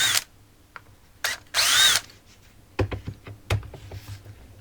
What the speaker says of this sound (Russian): Откручиваем два самонарезающих винта 4 на 18.